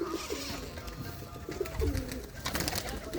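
A three-year-old flying pigeon at a pigeon club loft coos in low, repeated bursts, with a louder coo near the middle, over a steady hiss of other birds and background noise.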